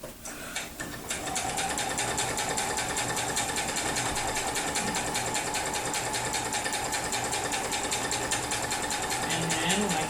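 A sewing machine stitches binding onto a quilt, a steady fast run of needle strokes that starts after a brief pause and continues close and loud to the end, with no talking over it.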